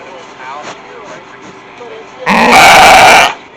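A sheep bleats once, loud and close, in one sustained cry near the end, following a stretch of quiet background murmur at a fall homesteaders' gathering where sheep are being sheared.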